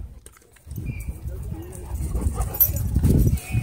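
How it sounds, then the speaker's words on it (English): A German shorthaired pointer hunting dog at a dog park gives short whimpers and yips, close and fairly loud, with people talking over it. "That's a hunting dog."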